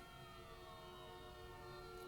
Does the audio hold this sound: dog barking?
no